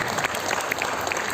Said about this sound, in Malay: Berikan satu tepuk tangan gemuruh kepada cikgu-cikgu kita